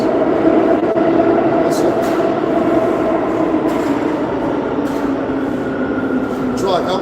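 A train rolls past with a loud, continuous rumble and a sustained metallic squeal from the wheels on the rails, lasting throughout while someone speaks over it.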